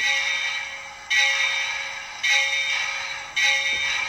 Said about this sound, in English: It's got a nice bell too.